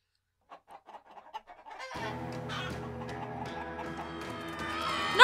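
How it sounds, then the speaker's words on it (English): Chickens in the Minecraft Story Mode video game cluck in a quick run of short, separate bursts, then a steady layer of game music comes in underneath and carries on to the end. "Not the chickens!"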